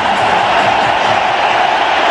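Steady roar of a packed cricket stadium crowd, a dense, even wash of cheering and chatter with no breaks, loud and enveloping.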